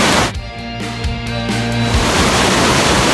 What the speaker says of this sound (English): Vernal Falls.